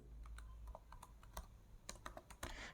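Quiet, close typing of JavaScript code on a computer keyboard, a quick irregular run of light key clicks with a short pause in the middle and a faster burst at the end.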